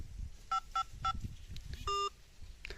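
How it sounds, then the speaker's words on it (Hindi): A phone keypad dials 555 on a call to a GSM mobile motor autoswitch, giving three short evenly spaced DTMF beeps followed by a longer tone, all faint over a low background hum. "तो ये कॉल करने के बाद हमको 555 नंबर डायल करना पड़ेगा।"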